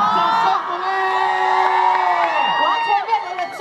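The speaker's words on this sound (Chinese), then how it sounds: "掌声鼓励！" An audience at a concert and autograph event cheers, whoops and claps loudly. A crowd of voices swells and carries on throughout, with shrill shouts rising above the noise.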